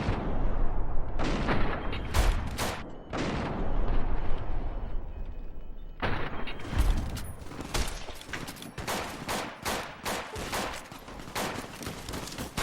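Gunfire in bullet time in the modded video game Fallout: New Vegas comes as loud, booming shots, some alone and some in dense bursts, with short gaps and a lull between clusters.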